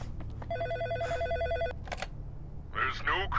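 A telephone ringing in the horror video game In Sound Mind, a warbling electronic ring repeating in bursts over a low background hum, followed by a voice talking near the end.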